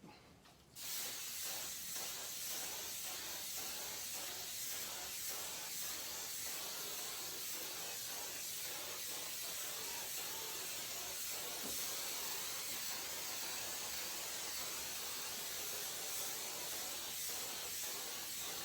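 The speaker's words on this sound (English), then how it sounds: "I'm going to spray Aquanet hairspray into the broom here for probably 30, 40 seconds" Aquanet hairspray aerosol sprays into a broom indoors in an office, a steady continuous hiss lasting the whole stretch at moderate level after a brief start, with no talk.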